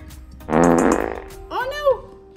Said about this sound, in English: Sounds like a fart.